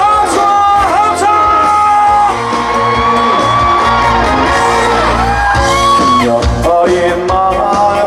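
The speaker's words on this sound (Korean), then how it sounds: "다같이 큰 목소리로 박수와 함성!" A loud festival crowd at Goryeong claps and cheers, with whoops and shouts sustained throughout over a sound system playing music.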